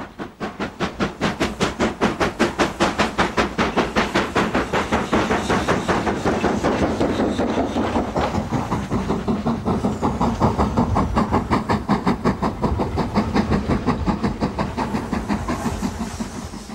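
LMS steam locomotive 5025, built by the Vulcan Foundry, works on the Strathspey Railway near Aviemore with loud, rapid, evenly spaced exhaust chuffs and hiss. The rhythmic beats carry on steadily for the whole run.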